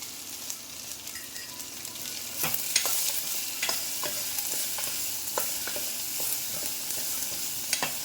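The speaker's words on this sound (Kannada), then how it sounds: "ಚೆನ್ನಾಗಿ ಫ್ರೈ ಮಾಡೋಣ" Bitter gourd palya with turmeric frying in a pan, a continuous hissing sizzle that grows louder partway through, with frequent sharp taps and scrapes of a stirring spoon against the pan, close up and without speech.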